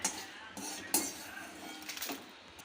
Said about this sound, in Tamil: இப்போ அதே பிளேட்லேயே வந்து நம்ம மிளகாயை எடுத்து கொட்டிடலாம்